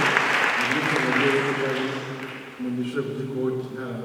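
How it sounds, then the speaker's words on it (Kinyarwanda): An audience at a church panel discussion applauds with a loud, sustained clapping that fades toward the middle, while a voice talks over it. "murakoze cyane gukoma amashyi"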